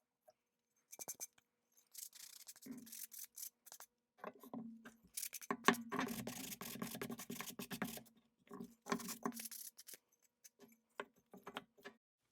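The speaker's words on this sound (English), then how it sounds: "I want to go ahead and do a little bit of sanding" Sandpaper rasps against a wooden leather stitching pony in irregular bursts of scratchy rubbing, close and fairly quiet, with short pauses between strokes.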